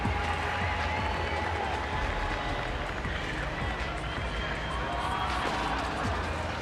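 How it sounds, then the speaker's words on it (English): A large arena crowd at the CrossFit Games roars and cheers steadily for a woman attempting a heavy clean. Dense and continuous, with an announcer talking over the noise. "here comes the crowd getting behind Turi Helgadottir"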